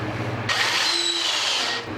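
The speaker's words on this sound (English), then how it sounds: "this long screwdriver to drive the screw through this and into that so it ends up right about there and tightens down" A power screwdriver drives a long screw through glued wood boards for an office table, a steady whirring buzz lasting over a second, close and loud, then cutting off.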